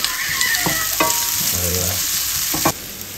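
Onion and garlic sauté in a pan until golden brown, making a loud, continuous sizzle with a few sharp utensil clicks against the pan, close up and without speech.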